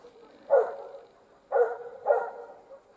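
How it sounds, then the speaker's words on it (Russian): Dogs barking outdoors in a village on a frosty, windless day: three short, muffled barks, the first alone and the last two close together, heard at a distance in quiet surroundings. "Собаки бегают"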